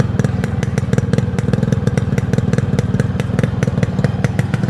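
Yamaha RX 100 two-stroke motorcycle engine running steadily close by, a rapid even popping putter with constant loudness throughout and no talk.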